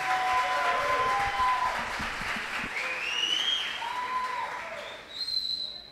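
Church congregation applauding throughout, a steady dense clatter of clapping with some cheering voices and a few whistle-like tones rising above it, fading slightly near the end.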